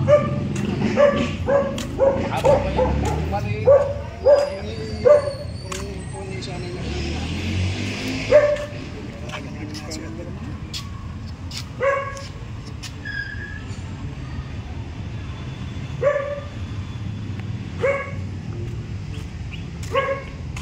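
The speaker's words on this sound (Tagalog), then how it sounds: "Meron lang aso dyan. May aso, sige." A dog barks outside a two-storey house and lot in Amadeo, Cavite, giving scattered sharp barks and yips, some near and some farther off, at irregular intervals, while people talk throughout.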